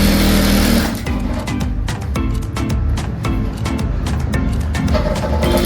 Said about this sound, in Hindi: ये आप देखें ये सिलाई लग रही है।